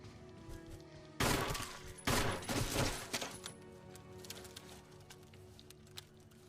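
Gunfire in the Resident Evil Remake video game: a loud burst of rapid shots erupts suddenly, pauses briefly, then resumes in a second dense volley that tails off into a low game ambience.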